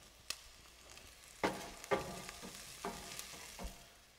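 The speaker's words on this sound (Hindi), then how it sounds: "अब इसको एकदम लाइट ब्राउन होने तक हम इसको कुक करेंगे प्याज को" Onions frying in a kadhai over a medium flame for Punjabi kadhai paneer, a quiet steady sizzle broken by several sharp clinks and scrapes of stirring, with no talk.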